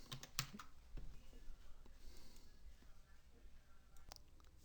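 Fast, irregular keystrokes on a computer keyboard, quiet and close, with a few sharper clacks scattered through the steady tapping and no talking.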